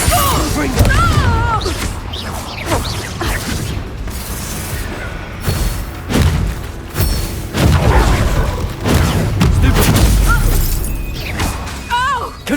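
Confringo fire spells bursting in Hogwarts Legacy combat, a dense run of booming blasts and crashes with magical whooshes, loud and continuous, mixed with shouted spell calls and other effects.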